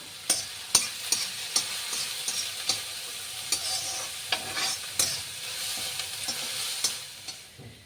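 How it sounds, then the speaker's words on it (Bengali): Onion fries in a pan with a steady soft sizzle, while a spatula stirs with frequent light scraping taps throughout, close and moderately quiet. "পেঁয়াজটা ভাজা হয়ে গেছে"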